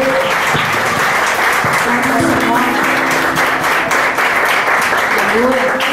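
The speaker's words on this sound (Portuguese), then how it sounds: "Você pode aplaudir o Senhor" A church congregation at a Baptist home worship service applauds steadily and loudly throughout, dense clapping with voices mixed in beneath.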